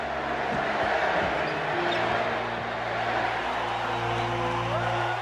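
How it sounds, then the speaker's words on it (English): An arena crowd at a basketball exhibition chants Larry Bird's name in a curtain call, a dense, continuous roar of many voices with low rhythmic chanting, steady and loud throughout. "The crowd start cheering, Larry, Larry, Larry."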